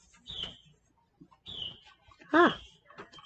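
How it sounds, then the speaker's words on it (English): Birds call from a porch in a few short, clear chirps spaced across the moment, with one stronger warbling call standing out amid soft background noise. "Do you hear the birds in the background?"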